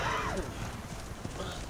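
Horses' hooves clip-clopping during a riding lesson in an arena, faint rhythmic hoof beats under a steady noisy background, with a voice briefly audible.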